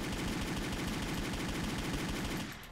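An EM-14 Elite rifle fires in the online shooter Wolfteam, a loud, unbroken stream of rapid automatic shots that cuts off near the end.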